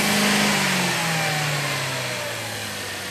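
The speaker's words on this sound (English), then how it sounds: "Rev it up again." A car engine fitted with a mass airflow sensor revs up and then slowly winds down, a loud steady mid-pitched drone with falling engine pitch and no voices over it.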